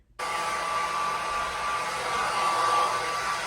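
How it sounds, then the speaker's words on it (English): A hair dryer runs on its low setting with a concentrator nozzle fitted, giving a gentle blow-dry. It starts abruptly, then holds a loud, steady, close whooshing hum with a faint whine. "Just doing a very gentle blow dry, low setting. I've got this concentrator nozzle on as well"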